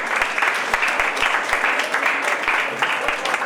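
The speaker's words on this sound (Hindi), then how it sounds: "सब एक बार जोरदार तालियां हो जाए।" Loud, sustained audience applause at a felicitation ceremony at Pachane Tirth, steady dense clapping with a few sharper thumps and murmured voices beneath.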